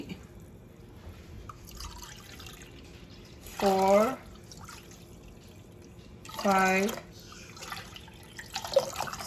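Water pours into a pot in two short bursts a few seconds apart, with a person speaking quietly between them.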